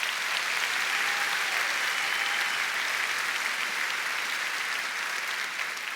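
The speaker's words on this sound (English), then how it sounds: "How about one more round of applause for Sonia Manzano?" Sustained, dense applause from a large audience at a school district opening event for Sonia Manzano, an even roar of many hands clapping that holds steady for several seconds.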